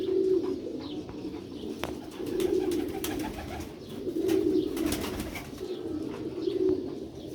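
Black-faced Sheikh pigeons coo in repeated low, throaty phrases at close range, the rhythmic calls rising and falling over a soft background of other birds.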